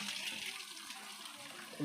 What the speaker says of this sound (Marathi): इकडं बघा पाणी आले नळाला